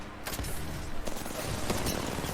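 Gunfire in Apex Legends rattles in dense, rapid bursts, several volleys layered close together at a steady loud level across the whole stretch.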